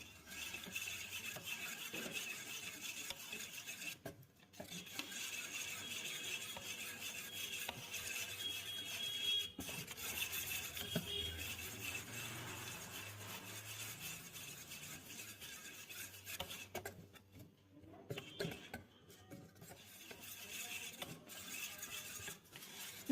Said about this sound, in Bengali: যতক্ষণ না চিনিটা ভালো করে গুলে যাচ্ছে ততক্ষণ ফেটিয়ে যাব।